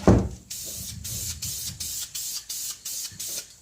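Spray paint goes onto ATV plastics in about nine short, even hissing bursts, each under half a second, close and fairly quiet, after a brief clatter at the start.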